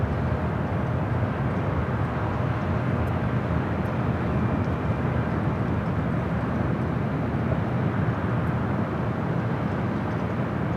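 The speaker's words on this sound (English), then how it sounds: "Next takeoff on the south side." A United Airlines Boeing 787-10 Dreamliner bound for Newark takes off from the south side of Los Angeles airport, a steady, loud jet engine roar that fills the whole stretch with no break.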